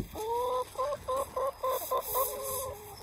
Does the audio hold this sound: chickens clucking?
yes